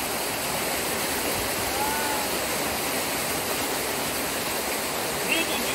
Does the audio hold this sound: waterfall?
yes